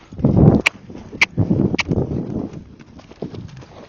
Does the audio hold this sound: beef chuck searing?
no